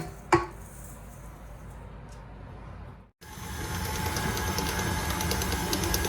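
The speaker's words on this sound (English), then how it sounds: "put our 2 packs of cream cheese in the mixer, and I'm going to put our 1/2 cup of sugar, and I'm going to mix it" An electric mixer beating cream cheese and sugar, a brief clink then a steady whirring motor hum that cuts out for a moment and resumes louder and continuous.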